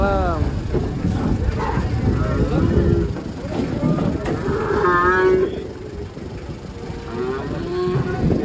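Cattle being unloaded from a truck, with repeated loud moos over steady engine and crowd noise, while people talk nearby throughout.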